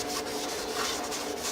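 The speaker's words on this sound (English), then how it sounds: "Sanding in here is a little bit tough." A carved wooden piece is sanded by hand, giving a soft, quiet scratchy rubbing in quick repeated strokes, close and alone.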